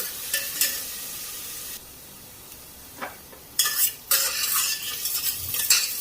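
Onion and ginger fry in oil inside a pressure cooker, with a soft steady sizzle under repeated scraping strokes of a spoon against the metal pot, some strokes louder and sharper than others.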